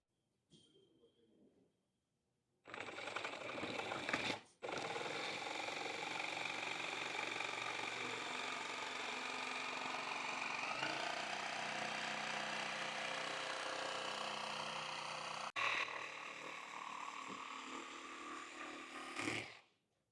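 A jigsaw cuts through the front bumper of a 2023+ Ram ProMaster van, a steady loud buzzing saw drone running nearly continuously after a brief start, with a short interruption early on, then stopping abruptly.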